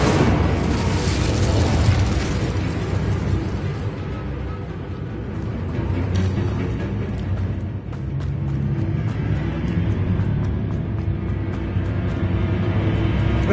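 Incendio fire spell in Hogwarts Legacy erupts in a loud, close whoosh and roar of flame that sustains with rumbling bursts and crackles throughout.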